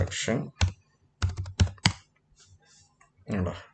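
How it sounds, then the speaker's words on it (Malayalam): A computer keyboard clicks out a search in short bursts of keystrokes, close and crisp, interleaved with a person speaking. "ഇലക്ഷൻ എന്ന് ടൈപ്പ് ചെയ്താൽ നമുക്ക് നോക്കാം."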